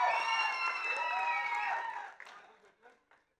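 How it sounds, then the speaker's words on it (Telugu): Audience applause and cheering for actress Kajal Aggarwal at the Satyabhama trailer launch event, a dense, loud burst of clapping that holds steady for about two seconds, then thins into scattered claps and fades. "కాజల్ అగర్వాల్కి ఒక్కసారి గట్టిగా చప్పట్లు."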